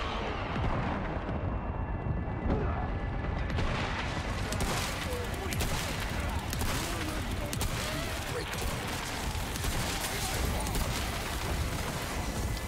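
Gunfire and explosive blasts from the 2023 Resident Evil 4 Remake video game, a dense, continuous barrage of booms and shots running throughout the clip.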